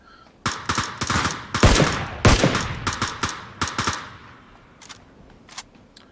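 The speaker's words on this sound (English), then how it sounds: "Looks like they're popping shots towards Team 3" Gunfire in the battle royale game Ring of Elysium during a team match: loud, close bursts of rapid shots and single cracks, thinning out to a few sparse shots at the end, with no talk.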